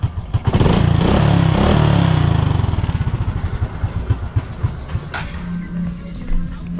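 A motorcycle engine runs loud and close, its rough pulsing throb slowing and fading into a sputtering idle.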